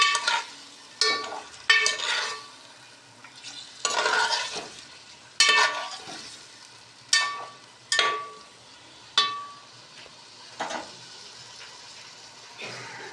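Chicken pieces being stirred through a spice masala in a pot, with scraping strokes of a spoon repeating every second or so over a steady, close sizzle of frying, and no talking.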